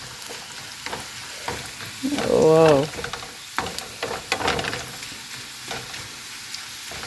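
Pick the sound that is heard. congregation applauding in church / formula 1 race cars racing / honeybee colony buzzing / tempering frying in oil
tempering frying in oil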